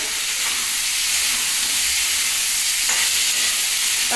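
Chopped tomato dropped into a jackfruit seed curry in a pan, a steady loud sizzle and hiss of frying with faint stirring scrapes, close up and without speech.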